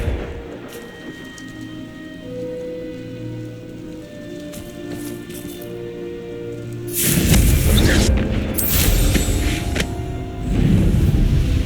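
A Confringo blasting spell in Hogwarts Legacy goes off with a loud roaring burst partway through, following a quieter stretch of game ambience and music, with the crackling rumble lingering and flaring again.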